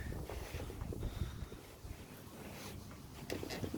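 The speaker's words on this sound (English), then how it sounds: "the wind's blowing everywhere" Wind gusting outdoors in a garden, a low, steady rumbling buffet against the microphone that swells and eases slightly throughout, fairly faint and continuous.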